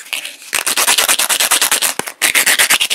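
Rough sandpaper scuffing wooden pen tubes for a roller ball pen, loud close rhythmic back-and-forth rubbing strokes with a brief pause partway, no voices.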